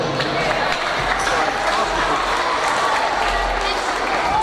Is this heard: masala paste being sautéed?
no